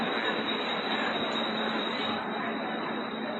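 A train departing a station rumbles loudly and steadily at close range, a dense continuous roar of wheels on rails with no voices.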